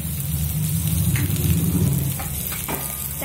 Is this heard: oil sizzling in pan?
yes